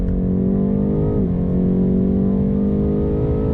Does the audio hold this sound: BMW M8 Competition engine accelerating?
yes